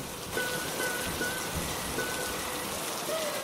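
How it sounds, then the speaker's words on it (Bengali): Steady rain pours down, a dense even hiss of drops close by with a faint thin tone drifting through now and then. "তখনই বৃষ্টি শুরু হয়"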